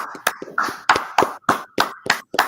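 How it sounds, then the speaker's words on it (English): A small class claps in a loose rhythm, about nine sharp, distinct claps close by, spaced unevenly and with short gaps of quiet between them. "let's clap it up for class"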